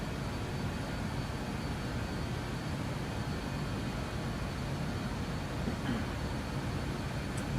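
The jet engines of a BAe 146-300 in Microsoft Flight Simulator roar steadily after departure. The sound is a broad, constant rumble and whoosh at even loudness, with no talk over it.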